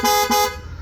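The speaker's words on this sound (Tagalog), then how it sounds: "Yun, Corsa horn." Two loud blasts from an aftermarket dual horn on a Yamaha NMAX scooter, a short honk followed quickly by a second, with a ringing harmonic tone that fades into a brief tail.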